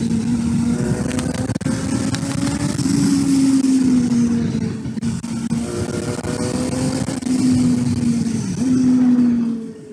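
A Suzuki GSR 750 motorcycle engine revs and pulls on the road, its strong harmonic drone rising and falling through several gear-like sweeps, loud and close throughout with wind rush around it.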